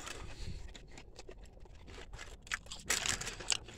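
Someone bites into and chews a steak burrito from a Mexican restaurant, loaded with meat, cheese, tomatoes, onions and green peppers; close, crunchy mouth sounds and rustling wrapper come in bursts, louder toward the end, with no talk.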